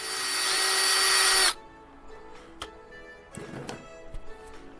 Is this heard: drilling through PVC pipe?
yes